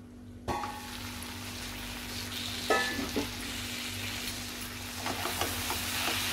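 Okra and green chili vegetable being stirred in a hot pan: a steady soft sizzle with a few scraping, clattering stirs of a spoon, close by, no talking, over a low constant hum.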